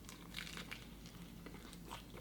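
Close, crisp crunching as someone bites into a supermarket sushi roll wrapped in lettuce and dipped in sauce, with several quick crackling bursts of chewing over a quiet background.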